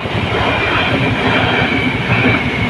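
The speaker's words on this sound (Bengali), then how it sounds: "তো ট্রেনটা চলেই গেল।" Loud, close rumble of a train running through a level crossing, the carriages clattering over the rails in a dense, unbroken stream of rattling for the whole stretch, with no voices.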